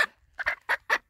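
A hen being held lets out four sharp, close squawks in quick succession, each a short harsh burst separated by brief pauses.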